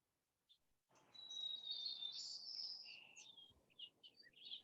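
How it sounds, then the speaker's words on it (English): White-crowned sparrows sing from an outdoor feeder camera on the South Coast, their thin, clear whistled phrases repeating over about four seconds at moderate distance against a soft background hiss, with no talking. "we're definitely getting a lot of white-crowned sparrows singing there"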